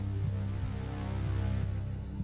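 A sine-wave tone from a lab signal generator in the game Stories Untold hums steadily and quietly, holding one low pitch with faint regular pulses throughout.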